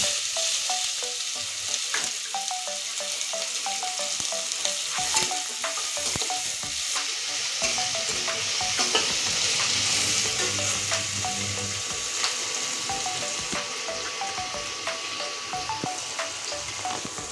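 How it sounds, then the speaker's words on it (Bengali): Chopped onion hits hot oil with whole tempering spices in a pan for a Bengali egg curry, sizzling and crackling continuously while a spoon stirs and scrapes now and then. "এখানে আছে কুচানো পেঁয়াজ এটা দিয়ে দিচ্ছি ফড়নের উপর"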